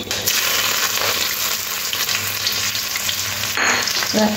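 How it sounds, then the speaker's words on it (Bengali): Chopped garlic and ginger fry in hot oil left over from frying meat, a loud, dense sizzle close up with a few clinks and scrapes of a spatula against the pan. "রসুন আর আদাটা একটু কাঁচা গন্ধ যাওয়া অবধি ভাজতে হবে।"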